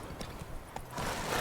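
Horse hooves clip-clop in The Witcher 3 as the rider's mount sets off, a steady trotting rhythm of light hoof strikes over soft in-game ambience, growing slightly louder toward the end.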